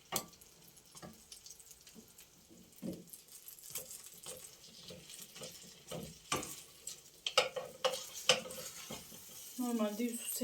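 Food frying in oil in a pan, with stirring clatter and light sizzling crackle throughout, close and moderate, with a louder scraping burst near the end.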